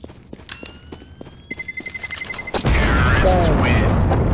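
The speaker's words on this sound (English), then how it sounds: "Terrorists win. Explosion noise." A deep, loud explosion bursts in after footsteps and game sounds, its heavy rumble filling the rest of the clip: a bomb detonating in the game Counter-Strike.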